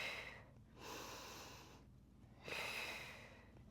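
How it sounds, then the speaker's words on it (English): Deep, slow breaths during a Pilates leg stretch on a ball: two long airy exhales a second or so apart, close and fairly quiet, with a soft inhale between them. "Just going to give you those breaths every now and then so you can hear my breathing"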